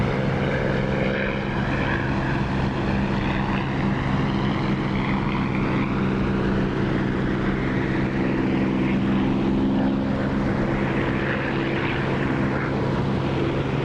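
A propeller aircraft engine drones steadily and loudly in the DCS flight simulator game at around 2,700 RPM, a constant tonal hum with a slowly shifting pitch and no voices.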